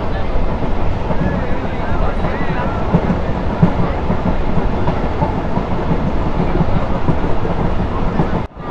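Six-coach Mongla commuter train linking a land port and a seaport, running past the Moyur river, with a steady loud rumble and rail clatter throughout, close by.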